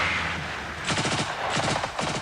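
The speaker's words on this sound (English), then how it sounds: "More important, enemy machine gun." An enemy machine gun fires in bursts during a simulated military ambush in a 1989 combat competition, rapid rattling volleys close and loud over a noisy outdoor background.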